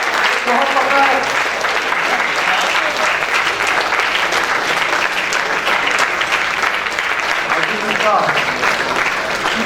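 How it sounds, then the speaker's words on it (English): A large campus audience claps continuously and loudly, a dense sustained wash of applause with crowd noise and some voices mixed in. "Keep clapping."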